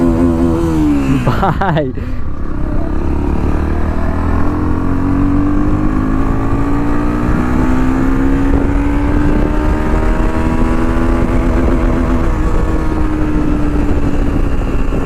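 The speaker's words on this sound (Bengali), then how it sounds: "তো চলো এক্সাস্ট নোটটা একটু তোমাদের ভাই চেক করাই" An NS 160 motorcycle's exhaust drones close by, its engine note climbing and then holding steady as the bike revs. Someone speaks briefly over it.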